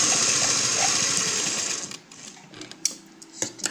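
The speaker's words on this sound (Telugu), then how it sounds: "ఇలా కుట్టుకున్న తర్వాత పైన మరొకసారి ఒక కుట్టు వేసుకోవాలి" A sewing machine stitches the front part of a blouse in a loud, fast continuous run for about two seconds, then stops, leaving a few faint clicks and handling knocks.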